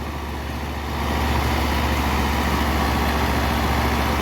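A 2017 New Holland Fiat 640 75 hp tractor runs at 1500 RPM, its steady low diesel drone getting louder about a second in and then holding even and close, with no voices.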